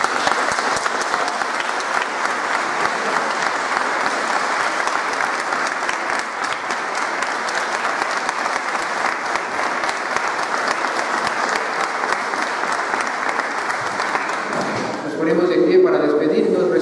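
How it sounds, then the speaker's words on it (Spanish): Long, sustained audience applause for a children's folk dance group at a San Juan Bautista festival performance, steady and full for about fifteen seconds before fading as voices take over at the end. "un fuerte aplauso de manera especial a estos niños que son la cantera de nuestro pueblo"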